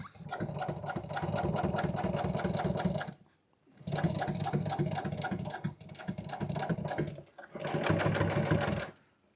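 Sewing machine double-stitching upholstery for a modern seat insert, three runs of rapid, rhythmic mechanical clatter close by, separated by brief pauses.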